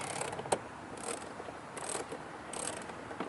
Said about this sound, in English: Now you're going to take your wrench, make sure it's set to off, and start wrenching on those screws.